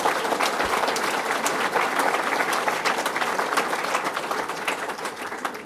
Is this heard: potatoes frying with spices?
no